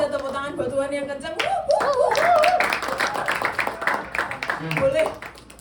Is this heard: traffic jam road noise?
no